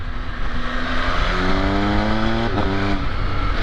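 A 2024 MV Agusta Enduro Veloce three-cylinder engine revs up close, its raspy tone rising in pitch, dipping briefly, then climbing again.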